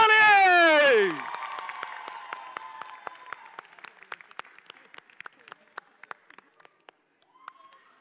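A short, loud tonal voice opens before sparse, scattered claps from an audience trail off at a televised dance competition grand finale, the claps growing fainter and more spread out.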